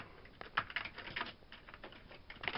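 Keys are tapped on an Amiga 500 Mitsumi keyboard with a repaired membrane, giving quiet, irregular plastic clicks in short bursts, close and alone.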